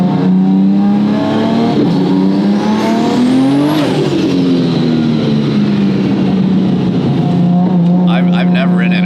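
A 1500hp RB36-engined, paddle-shift Nissan GT-R R34 roars from inside the car, pitch climbing steeply under hard acceleration before a shift drops it and it pulls again, loud and close.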